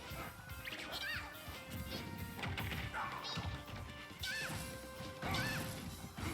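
Forward smash hits crash and thwack in a Super Smash Bros match, several sharp impacts over busy game effects and a crowd-like din, fairly loud and continuous.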